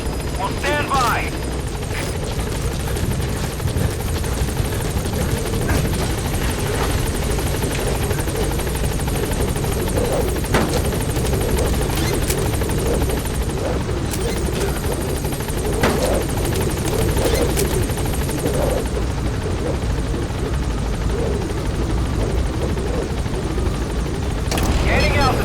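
Helicopter in Metal Gear Solid 5 arriving at a landing zone, its steady rotor thump and engine roar loud and continuous throughout, with a man's radio-style voice and occasional game effects over it.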